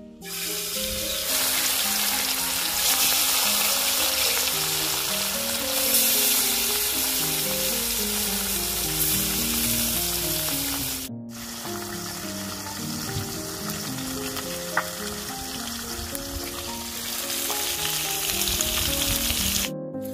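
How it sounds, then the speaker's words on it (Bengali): Rohu fish pieces frying in hot mustard oil in a kadai: a steady, loud, close crackling sizzle that runs on without pause, with a brief break partway through. "কড়াইয়ে তেল গরম হয়ে গেছে, এখন মাছ দিয়ে দিব।"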